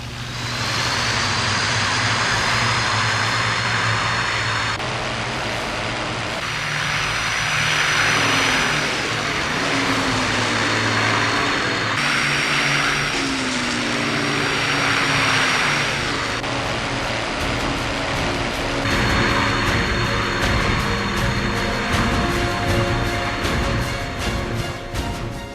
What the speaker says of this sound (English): The flight takes off to gather information.